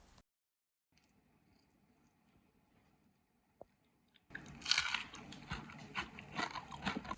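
After a near-silent stretch with one small click, loud crunchy bites of a crispy fried courgette and aubergine snack follow, close up with repeated crackling chews.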